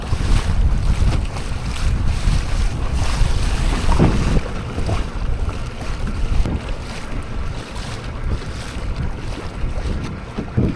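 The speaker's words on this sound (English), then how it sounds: "look how windy it is" Strong wind buffets the microphone in a steady, loud roar, with water sloshing and a boat motor droning underneath on the Tampa Bay flats near the Gandy Bridge; no voices.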